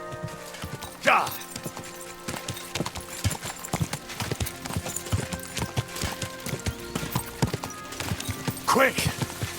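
Horse hooves clip-clop in a steady rhythm close by in the video game Kingdom Come: Deliverance 2, with a couple of whinnies breaking through and occasional speech over the top.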